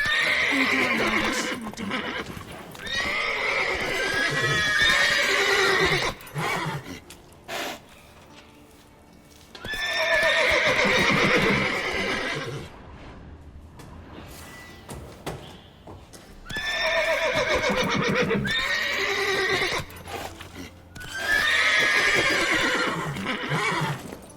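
Repeated loud horse whinnies in The Witcher 3: Wild Hunt video game come in several long bursts with pauses between, while hoofbeats clop underneath.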